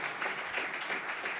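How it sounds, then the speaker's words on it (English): An audience at a telecommunications regulators' fireside chat applauds the panel, a brief, dense and even patter of many hands clapping at moderate distance. "I want a round of applause for our terrific panel"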